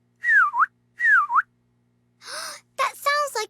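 A voice imitates a whistling sound: two rising-and-falling whistled tones in quick succession, followed by a breathy gasp-like vocal sound and a brief burst of voiced, harmonic noise, all close and fairly loud.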